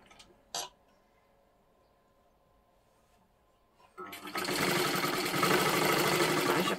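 After a quiet stretch broken by one soft knock, a sewing machine starts up, stitching a double seam along the neckline of a katori blouse with a loud, steady, close whirring run.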